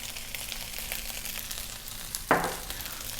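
Fried rice sizzles steadily in a hot pan over high heat, with a soft continuous frying hiss and one sharper burst of crackle near the end; no one speaks.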